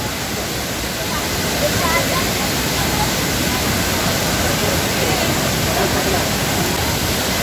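Tay-Tay Falls in Laguna pours in a loud, steady broadband roar, a close waterfall rushing without pause and filling the whole scene.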